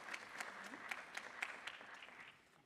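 An audience at an inter-municipality debate claps with light, scattered applause, faint and distant, while a voice talks briefly underneath.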